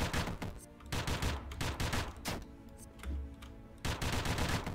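Enemy gunfire in the video game Dungreed: a dense, continuous fusillade of quick shots layered over game music and effects, with no pauses.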